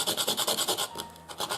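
A charcoal pencil is sharpened by hand while being rolled, giving close, dry rasping scrapes in a quick regular rhythm, about a dozen strokes, with a short pause near the end before scraping resumes.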